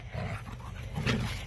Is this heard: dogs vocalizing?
yes